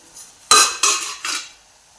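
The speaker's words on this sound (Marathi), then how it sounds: "झाकण काढून घेऊया" A lid comes off a cooking pot of village-style shepu (dill) bhaji with moong on low gas, giving three close, bright metallic clanks in quick succession that ring out briefly, with no voices.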